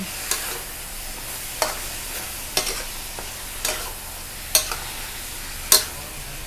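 Long eggplant is stir-fried in oil in a pan, a steady sizzle broken by sharp, regular scrapes and clicks of a spatula every second or so, close and alone.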